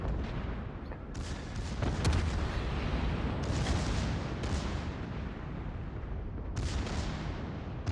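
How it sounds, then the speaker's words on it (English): Dull rumbling booms of a naval battle in World of Warships: Legends as a torpedo strikes, a steady dense low roar with a few sharper blasts rising out of it, fairly faint and with no voices. "Okay, that got my torpedo hit"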